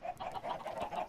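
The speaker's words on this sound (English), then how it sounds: "you hear a bunch of clucking. That because they're chicken farm." Chickens cluck in a Minecraft chicken farm, a steady overlapping stream of short bird calls close by, with no talking.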